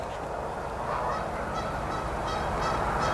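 Geese honk repeatedly from a short distance in an outdoor wooded area, their calls scattered and overlapping above a continuous low background rumble.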